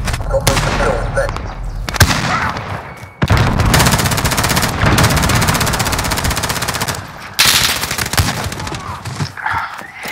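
Bursts of rapid automatic gunfire rattle loudly and close in a Call of Duty Modern Warfare Shoot House domination match, long sustained volleys broken by short pauses, with faint voice chatter underneath.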